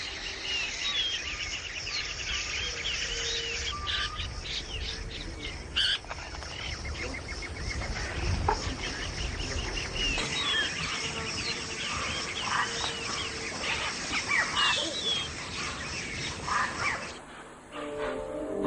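Parrots, including a mealy amazon, call with other exotic birds in the Ecuadorian jungle, giving shrill repeated squawks and chatter over a dense, constant background of forest sound.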